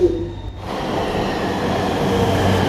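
A Green Line elevated skytrain arrives at Tao Poon station, a loud steady rumble of wheels and motors swelling in after a brief quieter start and holding close.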